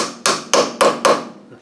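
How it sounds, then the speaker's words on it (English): Four sharp hammer taps, evenly spaced, seat a part in a Land Rover LT230 transfer box centre differential during shimming, each strike ringing briefly and decaying before the next, close and clear with no talking. "We'll just give that a little tap down because it's kicked around a little bit."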